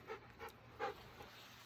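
Dogs play and pant outdoors by a high river, giving a few soft, quick breathy puffs at a distance with faint background noise.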